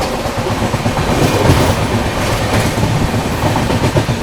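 Suhaildev Superfast Express running through Aligarh Junction without stopping, heard from inside a First AC coach: steady loud rumble and rolling wheel noise with faint clickety-clack throughout, no talk.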